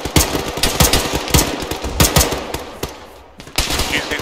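Loud bursts of automatic gunfire and sharp single shots crack repeatedly in a military shooter video game, with a brief lull near the end before the firing resumes.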